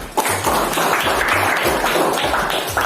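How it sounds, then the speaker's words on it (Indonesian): A class of grade 9D students claps together in a classroom, a dense patter of hands that runs steadily and fairly close without any talking. "Tepuk tangan dulu untuk kalian semua."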